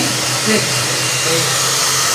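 A hair dryer blows on a chicken with a steady, loud whooshing hum, close by and unbroken for the whole stretch.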